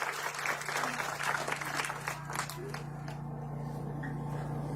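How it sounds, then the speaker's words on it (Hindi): A village crowd at a gathering in Dabarpur claps in a burst of applause that fades out over a few seconds, heard at a moderate distance with a steady low hum underneath. "एक बार और जोरदार तालियों के साथ अपने बेटे का हौसला बढ़ाएं।"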